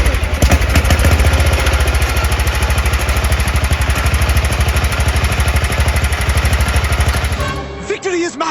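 Engine of a 1967 Sears SS12 garden tractor running loud and close with a rapid steady pulsing chug, fitted with a new carburetor, holding for several seconds before abruptly cutting out near the end.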